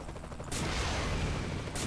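Gunfire in Saints Row The Third: a quiet first half-second, then a sustained, dense burst of shots fills the rest of the clip, loud and continuous with no talk over it.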